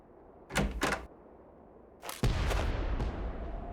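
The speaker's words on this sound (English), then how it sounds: "Sound of explosion." A booming explosion from the Nancy Drew video game The White Wolf of Icicle Creek: two heavy thuds, then a louder blast that rumbles on and slowly fades, with no speech.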